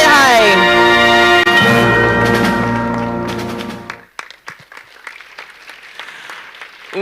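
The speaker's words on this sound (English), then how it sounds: "Avril is clapping all over again as if it happened for the first time." Audience applause at a junior national spelling bee, a loud sustained burst of clapping over music-like tones that fades after about four seconds into scattered, fainter claps.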